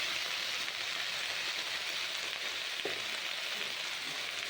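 Drumstick leaves simmer in water in a kadai, giving a steady, close hiss and sizzle with one soft clack partway through.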